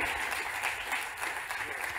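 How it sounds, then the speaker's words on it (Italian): Steady applause from an audience at a national climate conference in Italy fills the clip, an even, moderately loud patter of many hands clapping. "Li possiamo anche accogliere con un applauso."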